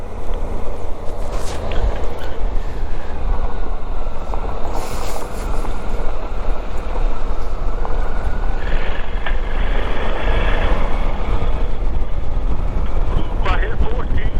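Adventure motorcycle, an Africa Twin or Suzuki V-Strom, climbing a switchback: steady loud engine drone mixed with heavy wind buffeting from start to end, with no clear gear changes.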